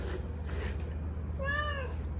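Rescued kittens, abandoned at three days old, give a single clear meow near the end, high and harmonic, over a steady low background hum with no talk.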